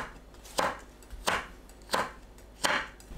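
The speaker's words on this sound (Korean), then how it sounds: "홍고추는 어슷 썰어주세요." A knife slices red chili peppers diagonally on a cutting board, four crisp, evenly spaced chops about two-thirds of a second apart, close and fairly quiet.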